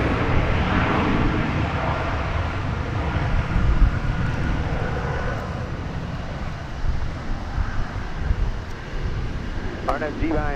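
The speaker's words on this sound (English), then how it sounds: "There's American Flight 2655 headed to Portland, Oregon, climbing through that shot." An American Airlines jet climbs out after takeoff at DFW Airport, a broad, steady engine roar at moderate distance with wind noise, and a voice talks over it throughout.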